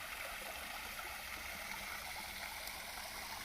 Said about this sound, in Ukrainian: Підходжу до електрощита і вмикаю водоспад.